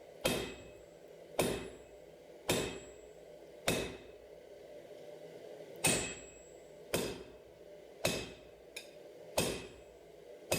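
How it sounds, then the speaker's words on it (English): Heavy hammer blows forging knife steel, about ten loud ringing strikes spaced roughly a second apart, each with a short metallic decay, close and alone. "I'm just trying to use heavy blows at this point to make sure that the metal will move"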